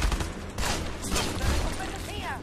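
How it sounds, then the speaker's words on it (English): Bursts of gunfire from a burst-fire MP5 in the Army of Two: The Devil's Cartel video game, with rapid shot clusters and ambient battle noise under voices talking. "I've got a freaking burst fire MP5."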